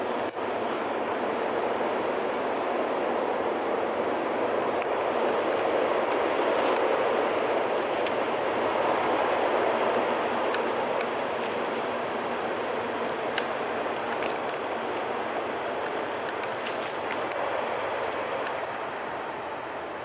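A train passes near a forest campsite as a steady, broad rumbling roar that holds for about twenty seconds, with faint rattling and scraping layered on top. It is heard alone, with no talking.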